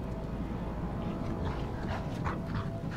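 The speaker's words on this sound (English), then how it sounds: "Nice dog." A dog in the Diablo 4 video game whimpers softly at close range, with faint yips and panting over a steady low ambient rumble, no speech.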